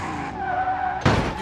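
Gavril Moonhawk, a 1970s American land yacht with a 378 cubic inch V8, in BeamNG: a sustained engine note shifting pitch, then a sudden loud burst of tire screech or skid at the end, close and alone.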